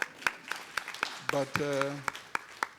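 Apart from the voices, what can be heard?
audience applause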